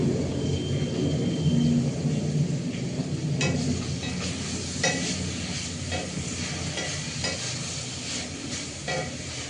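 Yardlong beans, pumpkin, pointed gourd and potato fry with spices in a pan, giving a loud, continuous sizzle broken by repeated scraping stirs, with no voices.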